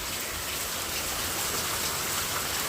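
Heavy rain pours down outdoors in the cold, a steady dense hiss of drops splashing on the ground and moving water, loud and close, with no voices.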